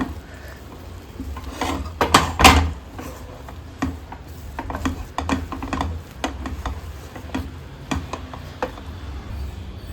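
A spoon scrapes and stirs rice flour dough for akki rotti in a pot on the stove, a steady run of close clinks and scrapes with one louder clatter early on.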